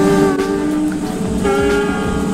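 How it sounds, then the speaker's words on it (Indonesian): A C6 steam locomotive in the Incorails railway game sounds its horn during shunting, a steady layered multi-tone blast held loud and close for the whole stretch, with no talk over it. "Nah, ada C6 lagi langsir juga, kita klakson."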